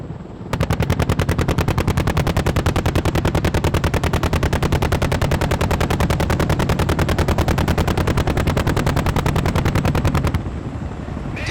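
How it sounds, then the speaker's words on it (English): An AH-64 Delta Apache gunship fires its 30mm machine cannon at a Japanese firepower exercise, a loud, rapid, unbroken stream of evenly spaced shots lasting about ten seconds, with rotor noise underneath. "Delta gunship conducts a suppressive fire onto the enemy forces on hill number 2 with its 30mm machine cannon"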